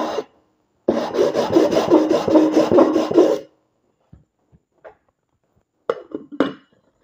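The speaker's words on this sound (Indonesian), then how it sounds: "dan sekarang langsung aja saya amplas" Rough, rhythmic scraping of sandpaper on a 12-cup metal moka pot for about three seconds, then silence broken by a few small clinks and brief rasping strokes.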